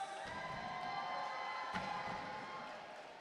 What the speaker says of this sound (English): You got to cheer them on, folks.